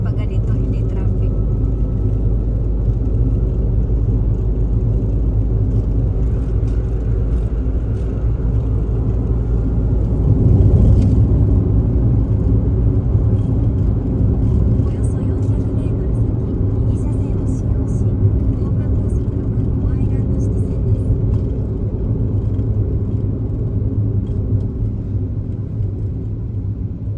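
A car driving steadily along an uncrowded road near Nata Fishing Port, with a continuous low engine and tyre rumble throughout, swelling briefly midway.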